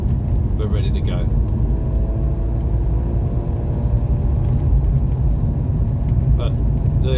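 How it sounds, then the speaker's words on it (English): A BMW E36 M3 with a 3.0 engine and manual gearbox, warmed up and pulling from low revs in third gear: a loud, steady, close engine rumble that runs without a break, with brief voice-like sounds over it. "it's very noticeable how responsive the engine in this car is"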